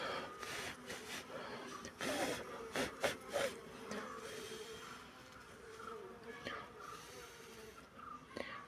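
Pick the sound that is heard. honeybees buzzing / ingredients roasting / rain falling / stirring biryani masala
honeybees buzzing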